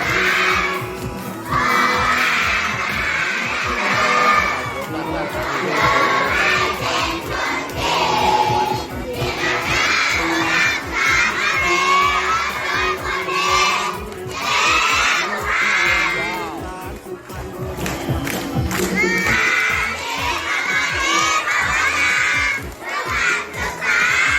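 Schoolchildren at a temple school in Suphan Buri, Thailand, cheer and shout together as a loud, dense crowd, with the excited voices rising and falling continuously throughout.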